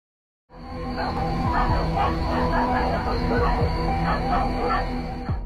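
Dogs on a road at night seen by a security camera, barking, yipping and whimpering in overlapping bursts after a brief silence, loud and near with a constant background hum.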